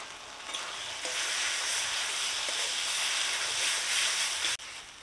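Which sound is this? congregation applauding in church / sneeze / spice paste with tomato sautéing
spice paste with tomato sautéing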